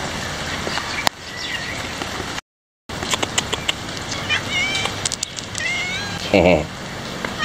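A cat meows near the end, a short wavering cry over steady background noise with scattered clicks and a brief dropout earlier.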